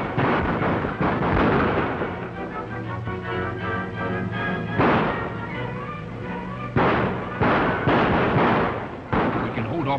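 Gunfire in a 1936 western set in the desert, with repeated shots and blasts cracking out loud and close over a steady rumble, mixed with voices and dramatic background sound.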